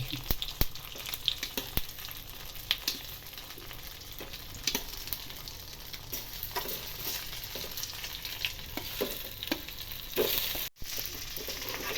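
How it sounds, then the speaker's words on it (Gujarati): Colocasia leaf rolls fry in a hot tempering of mustard seeds, cumin, sesame and curry leaves, giving a continuous crackling sizzle peppered with sharp pops and spits, steady and close throughout. "રઈ એડ કરીશું જીરું એડ કરીશું તલ એડ કરીશું મીઠું લીમડો એડ કરીશું પતરવેલી એડ કરીશું"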